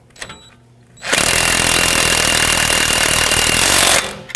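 A power impact tool snugs a sway bar link nut with a 15mm socket on a 2011-2018 Volvo S60 front strut, one loud sustained burst of about three seconds after a brief quiet lead-in, close and without talk.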